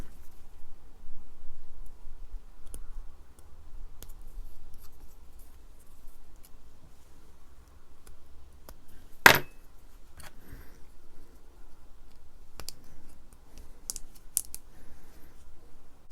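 A blade cuts away a piece of a small Finecast resin miniature, making faint, close clicks and snips scattered through near silence, with one sharper snap partway through.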